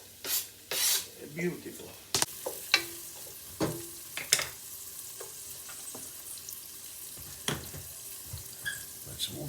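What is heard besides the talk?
onions frying with garlic in a pan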